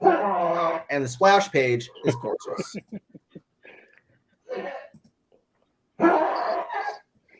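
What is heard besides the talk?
excited dog barking and whimpering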